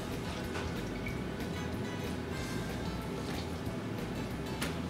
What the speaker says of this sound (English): You have to squeeze out all the water.